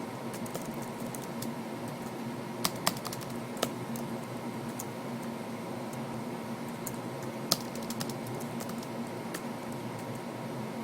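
Computer keyboard typing out C program code, a soft steady patter of keystrokes with a few sharper clicks, close and fairly quiet over a constant background hum.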